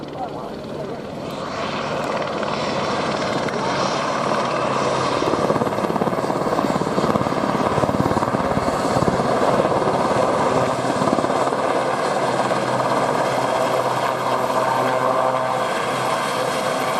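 A Sikorsky helicopter flies at the RNAS Yeovilton air display, its rotor and engine roar loud and sustained throughout as the aircraft passes nearby, with a commentator's voice over it.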